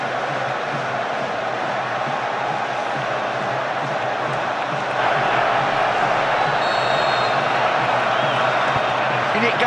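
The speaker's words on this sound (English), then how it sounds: "Well, thunderous now, the noise from the crowd at Wembley as Beckham prepares to take this free kick." Thunderous crowd roar fills Wembley football stadium during an England versus Croatia match as Beckham lines up a free kick, a dense, continuous wall of noise that swells louder around the midpoint and stays high.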